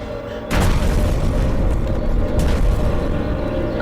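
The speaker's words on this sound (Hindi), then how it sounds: "लेकिन ये एक्सप्लोजन जैसा था।" Explosion blast in a monster shark film, arriving as a sudden loud boom after a brief quiet moment, then a sustained rumbling roar that holds steady to the end.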